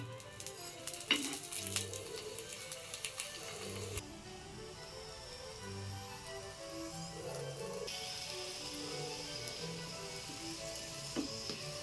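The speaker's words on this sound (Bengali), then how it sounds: "অল্প অল্প তেল দিয়ে পরোটা ভালো করে ভেজে নেব।" Methi paratha frying in a little oil on a pan, a soft continuous sizzle with scattered crackles and a few light clatters early on, fairly quiet throughout.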